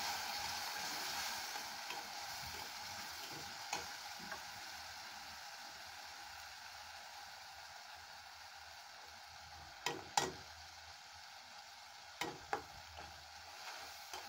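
Spice paste sizzling in oil in a pan, a soft continuous frying hiss with a few sharp stirring clicks and pops near the end, close and quiet.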